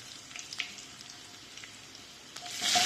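Onions with garlic and green chilies hit hot oil for a cucumber-like sosinda bhaji, starting as a faint light crackle that rises into a louder, bright sizzle at the end.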